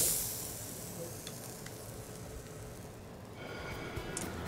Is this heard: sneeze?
no